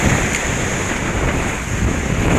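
Strong wind buffets the microphone in a constant loud roar while a fishing lure is cast straight into the wind from the shore, with no voices and no distinct cast sound.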